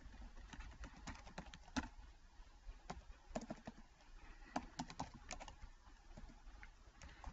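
Keys on a computer keyboard clatter in a quick, irregular run of soft taps, fairly faint and close, with brief pauses between bursts and no speech.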